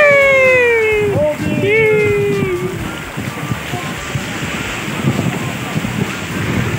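Ocean surf rolls in at a seaside fishing spot, a loud, continuous wash of waves mixed with heavy wind buffeting. Excited voices call out over it at the start.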